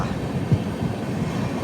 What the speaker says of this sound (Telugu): ఆ ట్రైన్ మన ట్రైన్ ప్యారలల్గా ముందుకు పోతున్నాయి